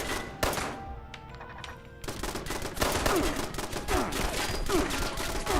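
Rapid video game gunfire, dense bursts of shots rattling continuously after a brief quieter lull, loud and close with no talking over it.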